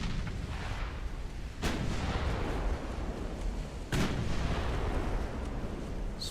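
Naval guns in the Ultimate Admiral Dreadnoughts video game fire at a destroyer, with two sharp, loud booms a couple of seconds apart over a constant deep rumble of battle, and no voices.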